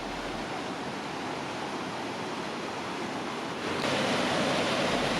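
Leavenworth Creek re-emerging from an old mine dig near the Santiago Mill pours out as a steady, broadband rush of flowing water, close and continuous, swelling slightly louder near the end with no voices.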